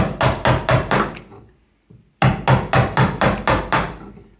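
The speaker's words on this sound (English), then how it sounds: "I'm going to chop from both sides, all right? So I'm going to come from this side, aim the chisel slightly upwards," A chisel is struck into timber in quick, evenly spaced blows, one run of five, a brief pause, then another run of eight, each a sharp, close, woody knock.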